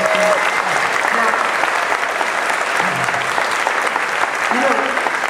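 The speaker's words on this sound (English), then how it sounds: "ladies and gentlemen, can we have a round of applause for our fantastic guests?" A crowd at a Star Wars Weekends celebrity panel applauds the guests with loud, continuous clapping, while a few voices speak faintly underneath.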